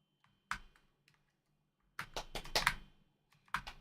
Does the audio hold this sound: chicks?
no